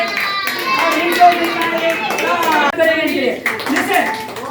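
Audience at a magic show house party clapping, a lively burst of applause from a small crowd mixed with children's voices, while a host talks over it.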